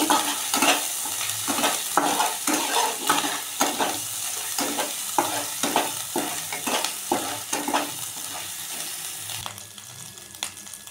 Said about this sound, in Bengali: রসুন, আদা, জিরে, গুঁড়ো লঙ্কা মশলাটা খুব ভালো করে কষে নেব।